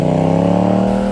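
A Yamaha MT-07 motorcycle engine hums loud and steady at close range, holding an even drone through a brief moment.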